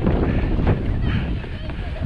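Strong wind buffets the microphone while skiing, a loud, constant low roar with gusty swells throughout the short stretch.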